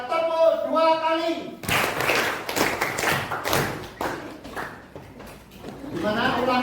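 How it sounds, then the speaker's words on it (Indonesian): A voice talks, then a group at a school answers with quick bursts of hand claps, sharp and close, before speech resumes at the end. "Bila mendengar suara saya, tepuk 2 kali."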